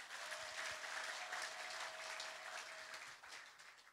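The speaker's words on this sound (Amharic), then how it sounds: "እስቲ ለጌታ አንዴ አጨብጭቡ።" A congregation applauds at a church service in Sharjah, UAE. The clapping is dense and steady for about four seconds, with a faint held tone underneath.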